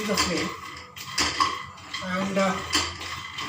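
A spatula scrapes and clinks against a pan while sago roasts over the flame, a steady run of metallic scraping with a voice talking over it.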